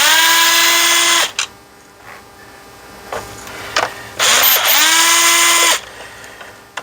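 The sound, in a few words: removing T15 screws from F250 instrument cluster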